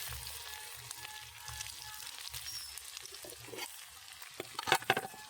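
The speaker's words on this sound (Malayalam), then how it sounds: "ഉള്ളി ഇട്ട് കൊടുക്കാം" Onion sizzling in a hot pan, a quiet, steady frying hiss with occasional stirring clatter that grows louder near the end.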